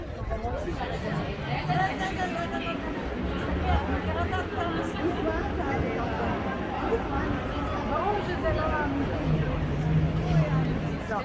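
Crowd of tourists chatting outside the Baptistery in Florence, a continuous, close babble of overlapping voices and mixed conversation that holds steady throughout, with occasional footsteps and bumps beneath it.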